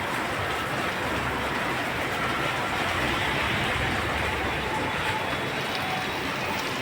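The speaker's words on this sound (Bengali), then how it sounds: "বৃষ্টি হচ্ছে একটু আরেকবার দেখিয়ে দিই তোমাদের এই দেখো কত পরিমাণ বৃষ্টি আসতে পারে" Dense, steady hiss of rain falling continuously around large machines, a broad even wash of sound with no pauses, fairly loud and close.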